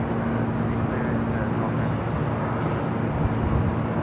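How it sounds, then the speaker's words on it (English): Viva Aerobus airliner taking off from runway 24 left at LAX, a dense broad jet roar that holds steady throughout with faint talk mixed in. "Viva Aerobus A380 that we saw arrive here on the north side, now taking off on 24 left."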